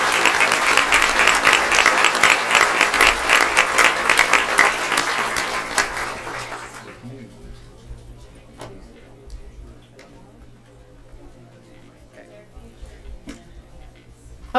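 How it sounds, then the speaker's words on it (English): An audience at a school board meeting gives a sustained round of applause, dense clapping for several seconds that then stops, leaving a quiet room with faint ticks and occasional talk. "Let's give them a round of applause, Belinda and Pedro Cavillo."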